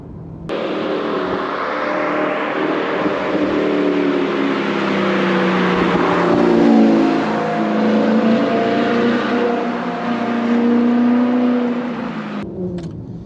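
An Audi R8 with a manual gearbox and the original V8 engine pulls hard under acceleration, its loud, close engine note climbing through the revs in long rising sweeps with gear changes between them and no talk over it.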